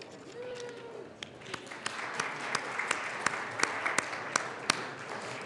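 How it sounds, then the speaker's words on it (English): Visitors from an elementary school are welcomed with applause in a state House chamber: a thin, scattered patter of claps that builds into steadier clapping with a few sharp, close claps standing out. "Give them a round of applause."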